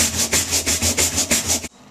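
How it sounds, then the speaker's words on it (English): Hard scrubbing while cleaning a bathroom: about nine rhythmic, close and loud back-and-forth strokes in quick succession, stopping abruptly at the end. "When you're scrubbing really hard, it takes a lot"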